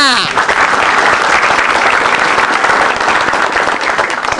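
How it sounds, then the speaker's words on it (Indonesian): A loud burst of crowd applause at a stand-up comedy show, dense and sustained for a few seconds after a brief tonal sound at the start. "Tepuk tangan."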